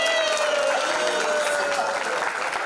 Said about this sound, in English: Can we have a huge round of applause for Oppo and the top 10?